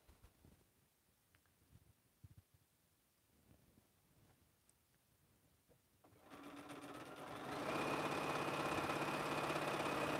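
A sewing machine stitching a triangle onto an African quilt, starting after quiet rustling and light handling, then running steadily and loudly with a fast, even buzz to the end.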